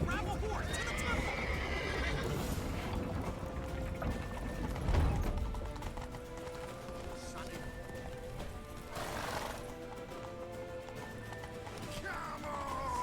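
A horse whinnies loudly amid clip-clopping hooves and mechanical rattling in The Witcher 3 video game, with the neigh standing out near the middle and a voice talking over parts of the scene.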